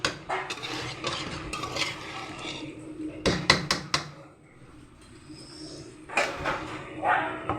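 Mutton and potatoes stirred in a metal pot, then a lid set on top: scraping and clinking of a spoon against the pot, a few sharp metallic knocks midway, and a louder clatter near the end, with no talk.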